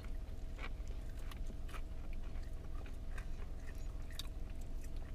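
Close, steady chewing of crunchy KFC Cola BBQ Wicked Wings, heavily coated fried chicken wings, with repeated soft crunches and mouth sounds, no talking.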